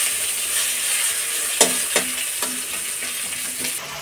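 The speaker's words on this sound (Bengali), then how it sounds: "মানে এই মাছের তেলে এই মাছ ভাজা হয়ে যায়।" Fish sizzles steadily as it fries in oil rendered from the fish itself in a home kitchen pan, with a few sharp clinks of a utensil against the pan partway through.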